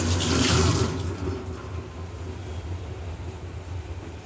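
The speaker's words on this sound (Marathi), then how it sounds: "जाम धुवून घेऊ" Guavas are washed under a running kitchen tap, with a steady close rush of water that splashes louder at first and then settles into an even flow.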